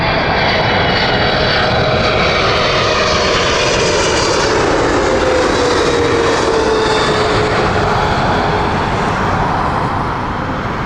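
An American Airlines jet bound for JFK rumbles past at Heathrow Airport, a loud, continuous broadband engine roar with a faint shifting whine as it moves overhead.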